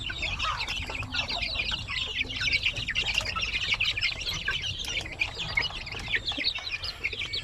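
Young chicks cluck and peep steadily while feeding, with a dense, busy chorus of close, overlapping chirps running the whole time over low background noise.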